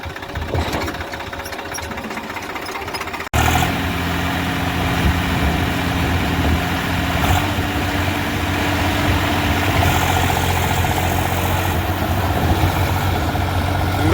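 A Swaraj 843 XM 4x4 tractor engine runs steadily with a deep, continuous diesel rumble, starting quieter and then jumping to a louder, constant drone.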